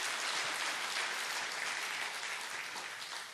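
A church congregation claps together during a Sunday worship service, a steady, dense wash of applause that fades slightly toward the end, with no voices.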